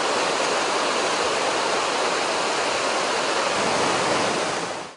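Rushing water of a stream feeding the Gamrichu river in Rangjung, Bhutan pours in a dense, loud, unbroken roar, fading out at the very end.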